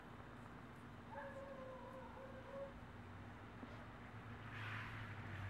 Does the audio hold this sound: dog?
yes